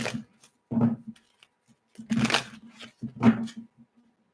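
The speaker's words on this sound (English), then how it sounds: "One more shuffle." A deck of playing cards being shuffled in short riffling bursts, three main rustles spaced a second or so apart, close and moderately loud with a low background hum.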